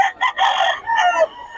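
A rooster crows once at close range, a loud, strained call broken into several pulses and finishing in a long drawn-out note.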